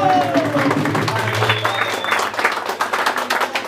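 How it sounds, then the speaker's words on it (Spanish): Applause at a quinceañera celebration with a youth mariachi band, lively clapping and crowd noise rising and falling, with cheering voices and a lingering sustained instrument tone beneath. "¡Bravo! Un aplauso."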